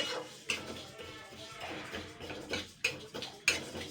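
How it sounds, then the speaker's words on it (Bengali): A metal spatula stirs lentils dry-roasting without oil in a pan, producing scraping, rustling strokes with several sharp clinks against the pan over about four seconds, close and moderately loud. "আর এইভাবে খুন্তি দিয়ে নাড়তে হবে"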